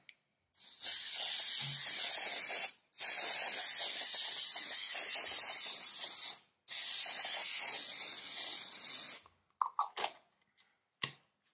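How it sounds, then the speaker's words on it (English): Three long bursts of hair fixative spray hiss from an aerosol can, each lasting a few seconds with brief pauses between, followed by a few short puffs. "you just spray it on and it will help to fixate the color"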